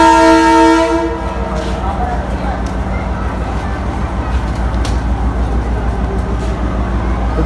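An express train's locomotive horn blares loudly with steady harmonic tones for about a second, then the heavy rumble of the departing train continues steadily throughout at close range.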